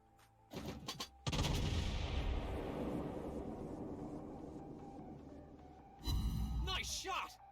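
Heavy naval guns booming from a Spanish cruiser in World of Warships Blitz, a short salvo followed by a long rumbling roar and a second loud blast later, with a voice speaking.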